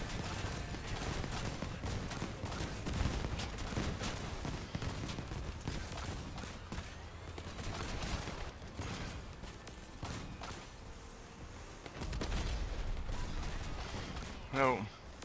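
Dense, continuous gunfire and explosions in the Leviathan Wars video game, a loud chaotic barrage with a rising whine near the end, voices talking faintly underneath.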